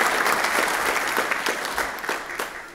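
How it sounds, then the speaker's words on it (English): A church congregation claps steadily during a Sunday service, a dense wash of applause that gradually fades toward the end. "Let's give them all a round of applause"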